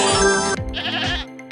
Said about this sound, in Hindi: अरे, यह तो बकरी के चिल्लाने की आवाज है